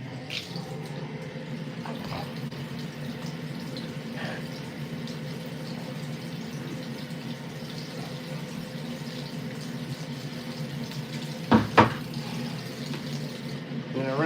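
Tap water runs steadily and softly while equipment from a nano aquarium tank is rinsed, a continuous quiet splash with a couple of brief louder knocks near the end.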